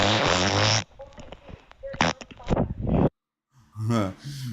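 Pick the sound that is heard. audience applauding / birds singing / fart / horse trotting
fart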